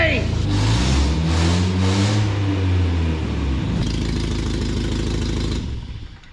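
A 1993 Toyota Pickup with a fuel-injected engine runs loud and close, a deep rumbling idle with a rise and fall in pitch early on, then a steadier roughish run that fades at the end.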